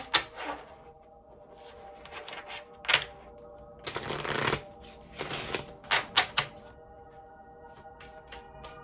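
Tarot cards being shuffled by hand, giving several quick riffling bursts and soft card slaps and taps between quieter moments, close to the listener.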